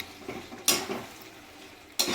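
Chicken and yogurt stirred in a pan for a Bengali chicken curry, giving a few soft scrapes and light clinks of a utensil against the metal, fairly quiet against a steady background hiss.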